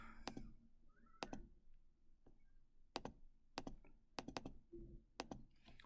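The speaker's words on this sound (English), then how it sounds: "Let me type in, we'll see if this will work." Typing on a computer keyboard, with quiet sparse clusters of clicky key presses and short bursts of two or three taps separated by pauses, close by in a fairly quiet room.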